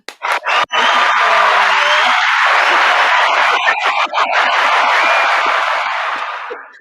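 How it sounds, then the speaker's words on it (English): An audience at a live pageant-style show erupts in loud, sustained cheering and clapping, whoops and screams over a dense roar of applause that carries for several seconds before tapering. "Clap it up."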